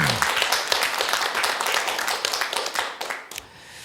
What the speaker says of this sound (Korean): 박수 한번 크게 쳐주시면 감사하겠습니다